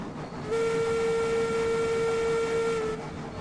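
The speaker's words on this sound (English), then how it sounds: "Did blowing the whistle make the bell stop?" A steam locomotive whistle in the train game Railroads Online sounds one steady, loud, sustained tone for about two and a half seconds over a rumbling train background, with no talk.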